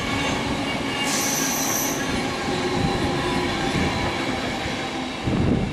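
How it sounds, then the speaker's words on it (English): A Pendolino Class 390 electric train rolls past near tunnels at South Hampstead, a loud continuous rumble with a brief high wheel squeal and rhythmic clatter. "Oh, another Pendolino, 390152."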